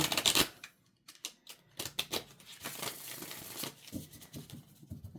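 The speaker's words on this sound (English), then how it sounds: "I can't shuffle those like that" Tarot cards shuffled by hand in quick, crisp riffling bursts with scattered flicks and pauses between runs, close and fairly quiet.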